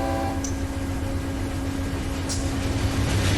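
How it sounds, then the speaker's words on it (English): Fly ash freight train running with BNSF run-through power in Run 8 Train Simulator, giving a steady loud rumble with a sustained engine drone, faint hisses near the start and again later, and no voices. "This is the fly ash train."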